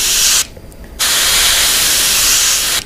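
A steady, loud hiss of a paint spray gun, broken by a brief pause of about half a second before spraying resumes and runs almost to the end.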